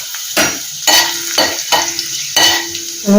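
Mustard seeds, fenugreek and a dried red chili crackle and sizzle in hot oil, loud and close, punctuated by several sharp spatula strokes against the pan.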